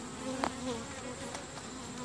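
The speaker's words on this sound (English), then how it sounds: "We've got a real healthy population of bees" Honey bees swarm around an open hive frame of honey and nectar, a steady close buzzing drone with a few louder passes as individual bees fly near.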